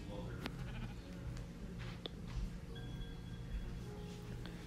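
A sheep bleats in the Minecraft video game over a steady background of game ambience, with faint voices underneath.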